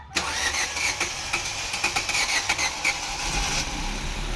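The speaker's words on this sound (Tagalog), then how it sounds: "umaandar na ang makina" A Ford Fiesta automatic's engine cranks and catches after a no-start fault, then settles into a steady, fairly loud running rumble with some clattering ticks on top.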